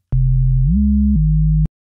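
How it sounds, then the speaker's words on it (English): A pure sine tone from an oscillator in the Serum synthesizer, a steady loud hum that glides up in pitch, then steps back down before cutting off, with faint clicks at the start and end. "So let's just add a sine wave, and let's tune it 7 semitones up"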